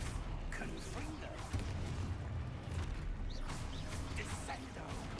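A Confringo fire-blast spell explodes in the wizarding game Hogwarts Legacy, a deep booming burst with crashing rumble that rolls on through the clip amid other spell effects and game sound.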